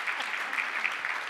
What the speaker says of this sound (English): Yeah, let's clap on that one.